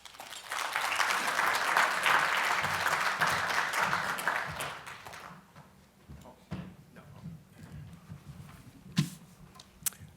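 A conference audience at an ICIT briefing applauds as a speaker is welcomed to the stage, with dense clapping for about five seconds that fades into scattered claps and light handling noise.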